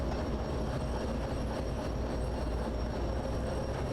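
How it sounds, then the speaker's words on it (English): A heavy freight train in the railway simulator Derail Valley rolls down a steep incline with brakes applied, a steady loud rumble of wheels and rail noise with faint squealing, continuous and close, no voices. "I actually need to apply the brakes in order to not crash the whole train."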